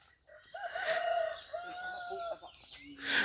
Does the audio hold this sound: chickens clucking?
yes